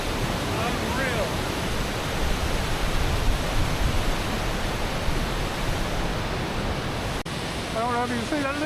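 Cathedral Falls waterfall roars as a dense, continuous rushing hiss, loud and close, with a person speaking briefly over it near the end.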